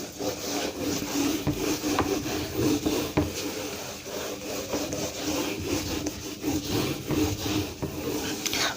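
Writing is rubbed off a board in repeated back-and-forth strokes, a close, scratchy swishing that keeps an uneven rhythm with brief pauses throughout, with no talk.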